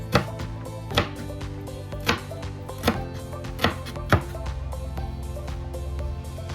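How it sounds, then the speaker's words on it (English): Washed celery sliced with a knife on a cutting board for lamb stew: about seven firm, evenly spaced chops, close and fairly loud, with no talking. "I have to slice all the celery too."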